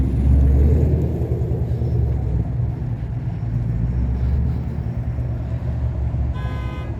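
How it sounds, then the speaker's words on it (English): A gasoline car's exhaust rumbles steadily and deep, a continuous throaty drone heard up close in a parking lot with no talking. "Gasoline engine, if I were to guess by the exhaust."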